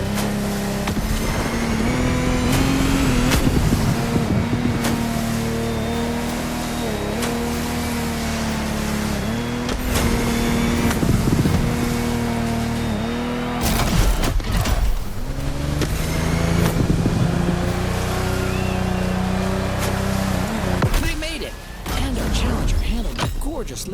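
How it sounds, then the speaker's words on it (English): Lamborghini Technomar speedboats race on open water in The Crew Motorfest, their engines droning and revving loudly and continuously, with brief surges and drops, under a voice. "Contestants need to push their engines."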